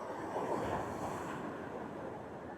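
Sea waves at the shore near Vizhinjam harbour make a steady, soft rushing wash with some wind noise, constant and fairly faint throughout, with no voices.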